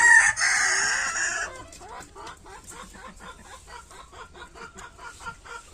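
Green-legged Partridge chickens in their outdoor run: a loud crow opens, then steady rhythmic clucking repeats at a moderate distance.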